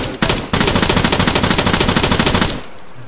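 Rapid automatic gunfire in the video game Arma 3, a steady burst of evenly spaced shots running for about two seconds after a couple of opening cracks, loud and close with no talking over it.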